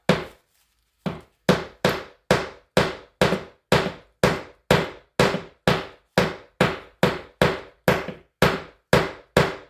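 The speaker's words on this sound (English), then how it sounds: "Just repeated blows all over it." A steady run of sharp metallic ball-peen hammer blows on a saucepan lid handle rivet, about two per second after a brief pause, each strike ringing out close and clear with no talking.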